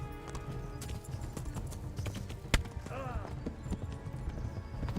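A horse in the medieval video game Kingdom Come Deliverance runs with rapid rhythmic hoofbeats and a brief whinny, set among game music and effects while a player talks over it.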